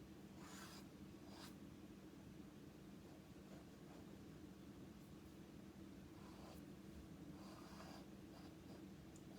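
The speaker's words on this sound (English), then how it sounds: "I'm sketching real light because I could always come back through." Conte crayon sketching lightly across toned paper: faint, close, intermittent scratchy strokes over a quiet hiss, with no one talking.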